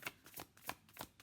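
Tarot cards being shuffled by hand in quick riffling bursts, four or five short papery flutters in close succession, soft and near.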